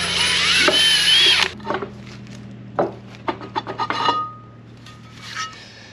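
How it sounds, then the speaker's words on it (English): M8 jacking screws are driven in to push the rear brake drum off a 40 series Land Cruiser. A loud whirring power tool runs for a second and a half, then scattered metallic clicks and scrapes follow. "But I now need to jack that drum off. So we'll screw in some jacking screws."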